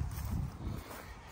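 A 2015 Mitsubishi Pajero with a 3.2 turbo diesel engine, stage 1 tune and straight exhaust, gives a steady, close, deep rumble that holds throughout with slight swells.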